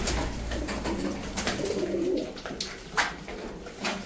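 Pigeons coo low and repeatedly in a farm loft where chicks are being raised, over a constant background hum with soft rustles and light knocks.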